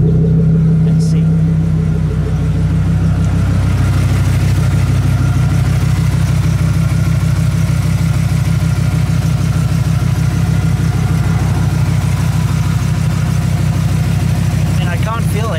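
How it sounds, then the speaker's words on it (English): A Dodge Ram V10 engine idles while warming up, a loud, steady low rumble heard up close that stays even across the whole stretch, with someone speaking over it at times. "Gonna let it warm up a little bit before I drive it though. Lovely V10 sound."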